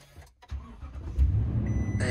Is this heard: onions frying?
no